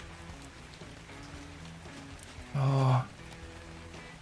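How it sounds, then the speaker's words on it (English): Steady rain falls across a foggy, cloudy landscape in the survival game Jurassic Awakening, a soft continuous hiss running throughout, with a brief louder burst of speech partway through. "it's a bit tough with the rain and the fog and the clouds"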